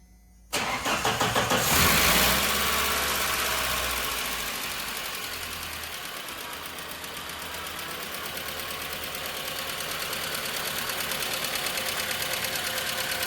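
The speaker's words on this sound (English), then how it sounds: "we're gonna start this thing up. I assume it's gonna be noisy when we first start it until those lash adjusters pump up" A Dodge Dakota engine cranks and fires up, then settles into a loud, close idle with a rapid, steady ticking from noisy lash adjusters that have not yet pumped up; no one speaks.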